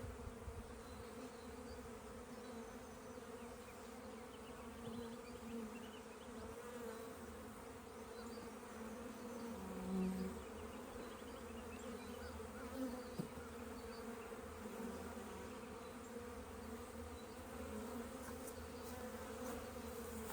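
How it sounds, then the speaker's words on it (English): Steady insect buzzing of bees flying close by, a continuous droning hum with a few louder passes near the middle. "These bees like to fly around my face."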